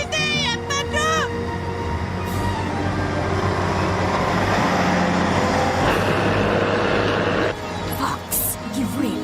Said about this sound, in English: Uh-oh, I hear cars.